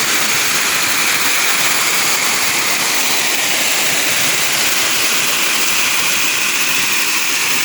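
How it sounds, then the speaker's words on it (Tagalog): Dapingan Falls, a small village waterfall with a weak flow, gives a steady, dense rushing hiss of falling water, close and continuous, with no talk over it. "Ito yung Dapingan Falls dito sa aming barangay. Yan, mahina lang siya."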